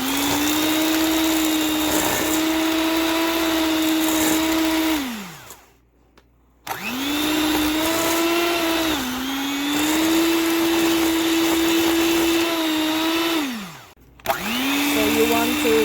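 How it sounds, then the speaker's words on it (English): An electric mixer beats wet cookie ingredients of almond butter, brown sugar and maple. A loud, steady motor whine runs in long stretches, cutting out briefly twice and then starting again. "We're gonna beat the wet ingredients, so to say."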